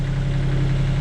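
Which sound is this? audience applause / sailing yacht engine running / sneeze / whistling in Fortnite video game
sailing yacht engine running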